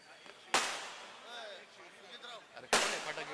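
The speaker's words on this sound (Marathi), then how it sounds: "अरे कोण फटाके वाजवायला?" Firecrackers going off at an outdoor political rally: two loud sharp bangs a couple of seconds apart with crackling tails, and a voice and crowd sounds between them.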